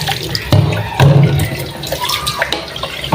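Water running and splashing while kangkong is washed by hand outdoors behind a house, with uneven sloshes and thumps of the greens over a light flow, close and fairly loud.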